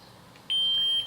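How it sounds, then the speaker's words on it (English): A ProffiePixel lightsaber gives a single clear, steady electronic beep about half a second long, close and isolated against a quiet background. "So once you hear the beep, means it's out of the volume menu."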